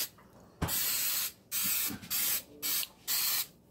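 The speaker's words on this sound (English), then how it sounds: "I'm gonna spray these muffin tins with." Coconut cooking spray from an aerosol can hisses onto muffin tins in four or five short bursts of sharp, close spraying, separated by brief pauses and light handling clicks.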